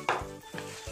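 Garlic stirred into cubed meat in a hot pan while cooking a stew, giving short bursts of sizzling with spoon scrapes, about three stirring strokes close up.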